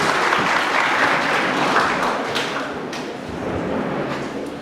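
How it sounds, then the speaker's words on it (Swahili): A congregation at a wedding in AIC Milimani church, Nakuru, applauds the chairman: a dense, sustained wave of clapping that fills the hall at full strength, then eases slightly toward the end. "Tupigie makofi chairman."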